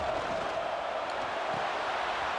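Stadium crowd roar in the video game EA Sports College Football 26 during a two-point conversion attempt late in the game, a dense continuous wash of cheering at a steady level.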